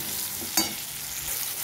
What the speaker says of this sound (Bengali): এই যে এবারে আমি লঙ্কাটা দিয়ে গুঁড়োটা দিয়ে নেড়ে চেড়ে নেব